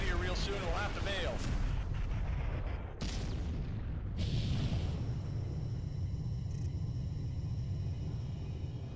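Freespace 2 space combat has a heavy explosion with a rolling rumble over dense roaring and crackling, cut off abruptly near the middle before a second boom and a long dull rumble carry on.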